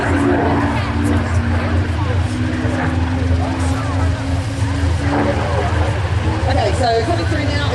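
A Spitfire fighter plane rolls past at the Classic Fighters Omaka 2023 air show, its engine a loud, steady roar that fills the whole stretch, with a murmur of crowd noise mixed underneath.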